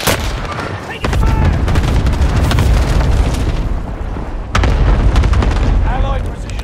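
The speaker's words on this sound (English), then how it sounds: "Allied precision airstrike incoming." Precision airstrike explosions in Call of Duty Warzone rumble loudly and continuously as deep booming blasts, with a sharp new impact about a second in and another near the midpoint, and voices talking beneath.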